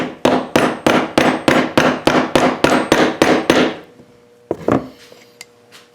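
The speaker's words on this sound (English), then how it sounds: "take your trusty rubber dead blow hammer" A rubber dead blow hammer strikes a dime set on a mandrel, about a dozen loud, evenly spaced blows in quick succession, then a pause and a couple of final hits.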